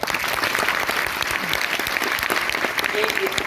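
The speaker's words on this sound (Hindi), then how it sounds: "जोरदार तालियां हो जाए" Loud, sustained applause from a workshop audience fills the room steadily, dense clapping without letup, with a few voices faintly mixed in.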